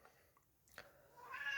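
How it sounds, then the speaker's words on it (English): A house cat meows once, short and fairly close, in a quiet room, followed by a rising, brighter vocal sound toward the end. "the cat has come to add to the briefing"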